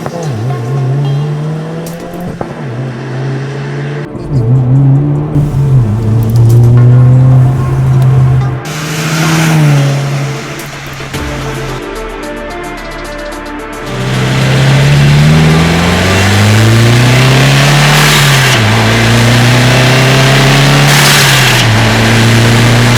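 A 2022 Subaru WRX fitted with a JB4 tuner accelerates hard on a street. The engine note rises in repeated climbing pulls, each dropping sharply at a gear change, then climbs again in a loud, close, sustained run.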